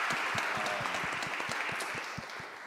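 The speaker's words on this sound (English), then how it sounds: "A round of applause for them" Audience at a symposium panel applauding family members in attendance, a dense, steady patter of many hands with some distinct sharp claps, fairly close, tapering slightly toward the end.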